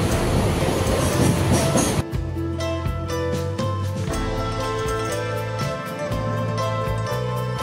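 A loud rushing local train in Mumbai near Marine Lines, first a broad roar, then steady rumbling with rhythmic clacks and metallic tones as cars pass close by.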